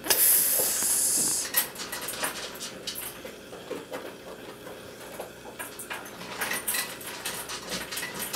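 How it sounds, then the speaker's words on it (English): Bubbles fizzing in water, a sharp loud hiss at first that settles into steady crackling fizz and scattered pops, close by, with no talking. "Look at the fizzing."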